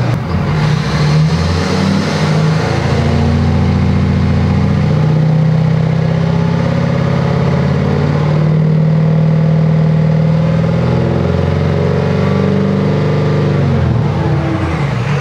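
A diesel truck engine fires up and settles into a loud, steady running rumble close by, its low throbbing idle shifting slightly in pitch as it keeps going without pause.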